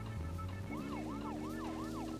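A police car siren in the video game Deadly Premonition wails in a steady, rising and falling cycle over a constant engine and road drone, loud and continuous with no talking.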